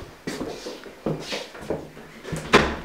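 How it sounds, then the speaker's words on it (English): A door is hit several times, giving a few dull, uneven knocks spaced over a few seconds, fairly close and moderately loud, with faint background noise between the blows. "Hit the door."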